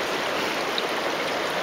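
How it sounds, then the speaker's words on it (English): Creek water rushing over rocks at a usual crossing spot, a continuous broadband wash of flowing water, close and steady with no voices. "looks like James is crossing the creek in the usual spot"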